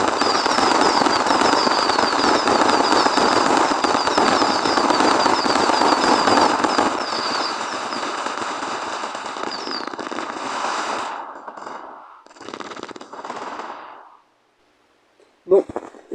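Fireworks explode in the game Firework Playground: a dense, loud barrage of crackling and popping bursts that thins out toward the end into a few separate blasts and near silence.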